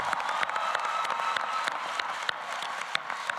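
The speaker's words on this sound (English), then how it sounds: "Would these students please stand for a round of applause?" At a university school of management and labor relations convocation ceremony, a seated crowd applauds honors students with sustained, moderately distant clapping and scattered sharper hand claps throughout.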